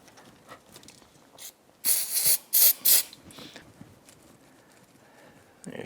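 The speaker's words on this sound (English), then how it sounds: "I usually use a little bit of parts cleaner, just spray down on the front edge." Parts cleaner sprayed from an aerosol can onto the front edge of a Yamaha YFZ450R throttle body: three short hissing bursts in quick succession, close and fairly loud over faint workshop clatter.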